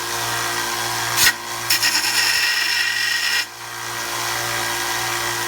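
A belt grinder whines steadily against forged steel, using the slack part of the belt, with a brief pause and shift in pitch midway before the grinding resumes.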